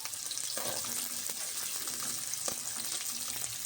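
Chopped onions, 125 grams, frying in half a cup of oil in a kadhai for aloo pulao, giving a steady crackling sizzle with occasional stirring clinks, close and continuous with no talk.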